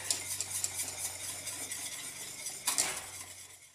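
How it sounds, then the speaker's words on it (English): A whisk works vanilla pudding mixture into hot milk in a pot, making a quiet rapid scraping, clinking swish that runs continuously and swells briefly near the end, heard alone without speech. "Add this to the rest of your, back to your milk, your hot milk, okay? And just whisk, just so you have it all incorporated."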